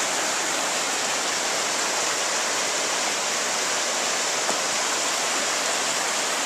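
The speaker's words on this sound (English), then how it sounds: "I'm going to show you the creek, glacier fed." Big Pine Creek, a glacier-fed mountain creek, rushes steadily nearby with a loud, unbroken roar of churning water and no voices.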